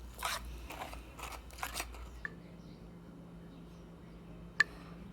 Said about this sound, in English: Grate 4 to 5 cups of carrots.